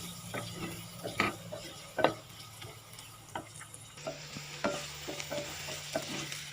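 Onion is sautéed in a pan for jambalaya, a soft, quiet sizzle with intermittent stirring clinks and scrapes.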